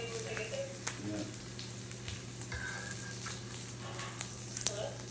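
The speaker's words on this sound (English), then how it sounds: "Now I got my sausage up there cooking." Sausage and turkey bacon sizzle steadily in a pan, a soft continuous crackle with small pops and a low background hum throughout.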